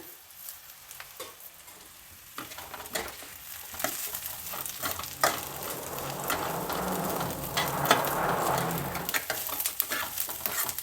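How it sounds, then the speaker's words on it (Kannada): Steamed fenugreek-leaf dumplings frying in a sesame tempering, with clattering stirring at first, then a steady crackling sizzle that swells and holds near the pan. "ಈಗ ಬೆಂದಿರೋ ಈ ಉಂಡೆಗಳನ್ನೆಲ್ಲ ಒಗ್ಗರಣೆಯಲ್ಲಿ ಸೇರಿಸ್ತಾ ಇದ್ದೀನಿ ಸ್ವಲ್ಪ ಎಳ್ಳು ಹಾಕ್ತೀನಿ"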